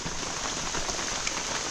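Rain falls steadily onto surfaces, a dense, even hiss of drops with no pauses, fairly close and moderately quiet.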